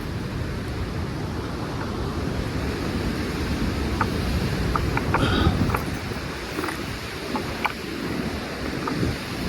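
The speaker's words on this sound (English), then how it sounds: "Oh, it's windy out here" Strong, steady wind gusting by a river below a campsite on a gorge hike, roaring and buffeting the microphone throughout with a low rumble and a slight swell midway.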